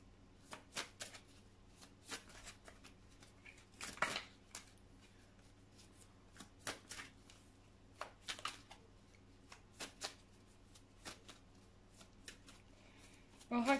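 Oracle cards being shuffled in a string of short, soft riffles and taps with gaps between them, fairly quiet, over a low steady background hum.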